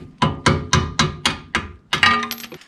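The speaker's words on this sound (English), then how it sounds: "Let's use a screwdriver to tap her back through." A screwdriver being hammered to tap a bolt back through the suspension of a Mercedes W124 during ball joint replacement: seven sharp metallic knocks in an even rhythm, close and loud, the last ringing longer.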